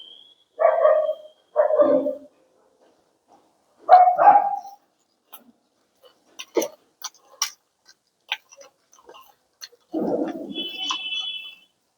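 Several loud barks from dogs nearby come in three short bursts early on, followed by scattered clicks and ticks and a final rough, noisy burst.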